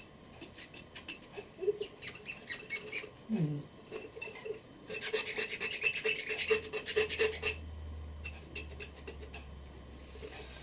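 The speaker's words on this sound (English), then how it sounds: "Maybe the scraping part here on top will do the job." An old salvaged object is scraped clean for a homemade winter globe, with bursts of rhythmic rasping strokes up close and a low hum near the end.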